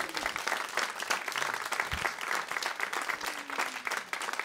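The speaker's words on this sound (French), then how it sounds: "Merci beaucoup, applaudissez-vous." An audience at a French comedy show applauding, dense and continuous clapping from a large crowd close by for a few seconds.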